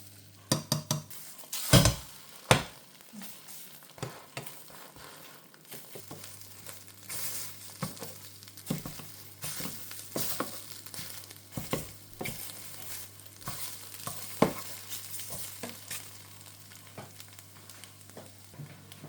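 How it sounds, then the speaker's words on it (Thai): Beaten eggs fry for an omelette in a pan, giving a soft sizzle broken by sharp clanks and scrapes of a utensil against the pan, with a low hum underneath. "วันนี้จะทำไข่น้ำแต่ต้องเจียวไข่ก่อนเนาะ"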